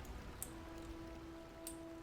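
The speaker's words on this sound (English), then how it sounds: "It's raining." Steady rain falls in Ashdale, a RuneScape game area, with a soft continuous patter and a couple of brief brighter drip-like ticks over a faint sustained background tone.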